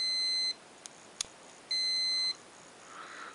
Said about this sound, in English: I've got my meter right now set on the alarm if there's a short.